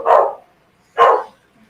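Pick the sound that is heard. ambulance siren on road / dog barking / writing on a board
dog barking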